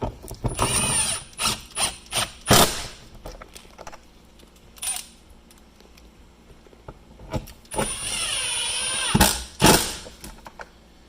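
Socket ratchet and trim work on a 2019 Ford F-150 door panel, with several short clicking and clattering bursts in the first few seconds, a quieter stretch, then a longer sustained rattling passage near the end, all close and without speech.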